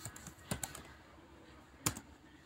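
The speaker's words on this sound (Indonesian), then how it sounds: "di sini kita juga ketik sudo" A few sharp computer keyboard keystrokes while typing a terminal command to set up VirtualBox networking, two quick taps early and one louder tap later, close and alone against a faint background hiss.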